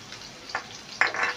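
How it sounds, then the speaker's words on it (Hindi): Finely chopped onions dropped into a pan of hot oil for a spicy green peas fry, giving two short bursts of sizzling and frying close by, the second louder and sustained, with no talking. "अब इसमें प्याज डाल देंगे जो बारीक बारीक कट करके रखे थे"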